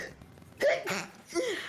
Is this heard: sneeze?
yes